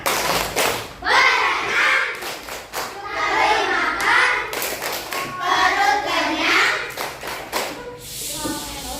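Students in a classroom clap out a rhythmic class chant, bursts of patterned claps and thumps in groups. Children's voices join in between the beats.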